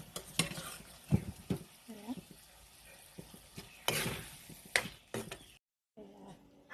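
Peas are stirred into cooked spice masala in a pan, with irregular scraping and clattering of a spoon against the pan, soft sizzling between strokes and a brief voice at moments.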